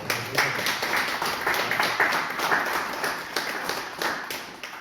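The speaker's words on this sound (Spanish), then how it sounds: "lo primero que vamos a hacer es dar un aplauso por explicarnos esta obra" An audience at a book presentation claps for the author, giving steady, moderately loud applause from many hands with individual claps audible throughout.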